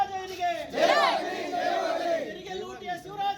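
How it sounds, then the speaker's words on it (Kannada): KRS party workers march in a protest procession toward a government office, a crowd shouting slogans together in loud, overlapping bursts of chanting voices. "ಮೆರವಣಿಗೆ ಮೂಲಕ ಜೈಕಾರ ಕೂಗುತ್ತಾ ಇಒ ಕಚೇರಿ ಆವರಣಕ್ಕೆ ಬಂದ ಕೆಆರ್ಎಸ್ ಪಕ್ಷದ ಕಾರ್ಯಕರ್ತರು"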